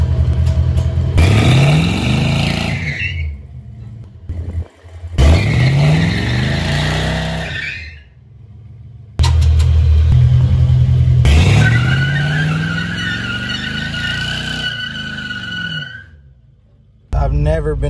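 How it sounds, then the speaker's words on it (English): A car fitted with a junkyard G80 locking differential revs hard in repeated long bursts while the tires screech and spin, loud and close, with brief lulls between pulls. "I've never been able to spin the tires in this car."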